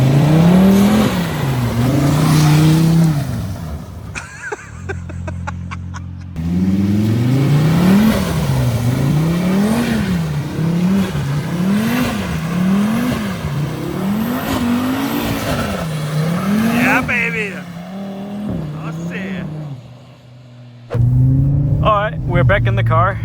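An Audi RS3 circles through donuts on snow, its engine revving loudly in repeated rising and falling surges, with brief pauses and some tyre noise, while someone talks over it.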